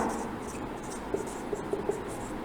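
Marker or chalk writes an answer on a classroom board during a maths lesson, a few short, faint tapping strokes heard close over a steady background hum, with no speech.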